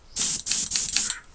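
An airbrush sprays paint in four short bursts of bright hiss separated by brief gaps, close and loud, with no talking.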